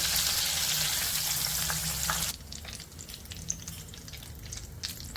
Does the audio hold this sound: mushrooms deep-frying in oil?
yes